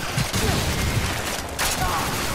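Gunfire from the video game Call of Duty 4 Modern Warfare, a continuous loud rattle of shots with a sharper burst near the end, filling the whole stretch.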